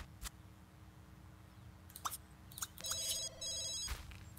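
A phone rings in The Sims 2 in two short bursts of electronic trilling, faint and mixed with scattered clicks and quiet game sounds.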